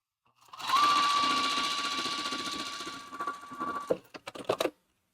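Sewing machine edge stitching along a fold on a quilted zipper pouch, a steady, close mechanical whir with a faint high tone running for about three seconds, then several short bursts of stitching and clicks as it slows and stops.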